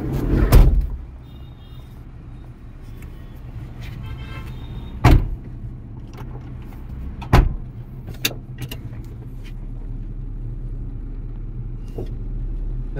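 Maruti Suzuki Eeco 7-seater CNG van on a test drive along a bypass road, giving a steady low engine and road rumble inside the cabin, broken by a few sharp thumps and clicks, with no talking.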